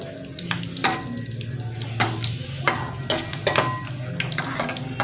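Ajwain tempering crackles and sizzles steadily in hot oil in a pan, with sharp pops and clinks of a spoon stirring, close and fairly loud.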